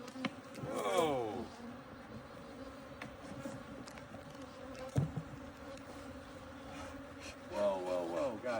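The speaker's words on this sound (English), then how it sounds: "This is an aggressive hive. Stung me right in the knee." Bees from an aggressive apiary hive buzz continuously close by, with a louder swell of buzzing near the start and again at the end, a person's breathing and voice faintly present.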